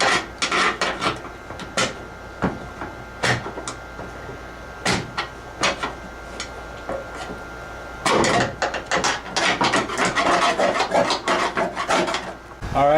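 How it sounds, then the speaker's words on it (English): Hand scraper rasping at sealant and undercoating in the trunk of a 1972 Camaro, a run of sharp, uneven scraping strokes close up, bunching into faster bursts toward the end. "I scraped it with the hand scraper pretty good."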